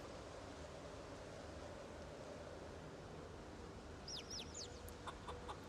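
Chickens in the zombie survival game Project Zomboid, a few short clucking calls arriving near the end over a steady wash of ambient noise, fairly faint and not close.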